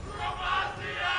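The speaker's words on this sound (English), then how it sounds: "The crowd yelling Bromacia." A large esports arena crowd at a League of Legends-style match between SoloMid and v8 yells and roars in a brief, loud, sustained swell.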